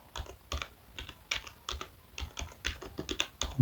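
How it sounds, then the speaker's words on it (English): Fingers typing on a computer keyboard, a quick irregular run of close, soft key clicks with short pauses, no voices. "I will need to type in here"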